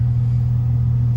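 A 1000 HP Porsche 911 Turbo in Sport Plus mode gives off a loud, steady low engine drone from inside the cabin, holding an even pitch without a distinct rev change.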